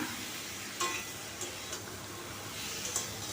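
Ginger and green chili paste with cumin seeds frying in a pan, a soft continuous sizzle with a few light ticks and clinks of a spoon, close and fairly quiet.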